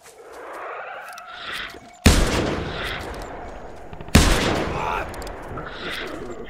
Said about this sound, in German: ich schieße wieder gegen den Baum.